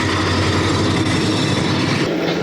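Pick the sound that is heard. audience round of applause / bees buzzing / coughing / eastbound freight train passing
eastbound freight train passing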